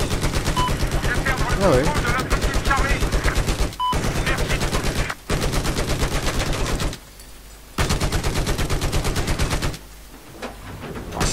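Machine gun fire in Battlefield 4: long sustained rattling bursts, loud and close, separated by brief pauses, with a short spoken remark near the start.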